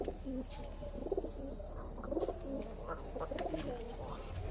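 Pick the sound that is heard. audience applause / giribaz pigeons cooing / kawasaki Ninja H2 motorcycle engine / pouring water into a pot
giribaz pigeons cooing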